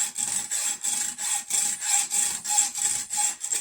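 A hacksaw cuts with a steady back-and-forth rhythm, about eight rasping strokes in under four seconds, close and loud with no voices.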